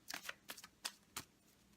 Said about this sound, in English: Maybe they're a message for me because I'm shuffling these cards.